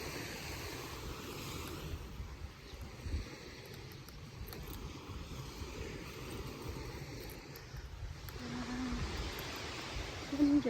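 Sea waves washing onto the morning beach at the Sheraton on Phu Quoc, Vietnam, a steady, rushing wash of surf with wind buffeting the microphone, swelling slightly toward the end.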